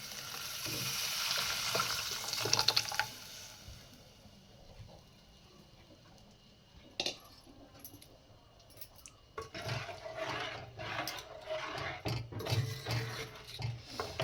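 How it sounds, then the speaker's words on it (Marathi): Cooked dal water poured into a hot tempering pan: loud sizzling hiss at first, then a quieter stretch, then renewed bubbling and sputtering with light scraping and clinks, and no talking. "हे शिजवलेला कट टाकून घेऊ कट म्हणजे डाळीचं जे पाणी असतं ते"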